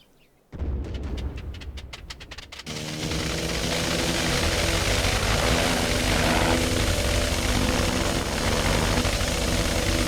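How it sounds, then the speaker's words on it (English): World War I aircraft engines start up in the flight game Wings Over Flanders Fields: rapid sputtering coughs catch, then settle into a loud, continuous propeller drone that builds and holds steady close by. "We are starting our engines."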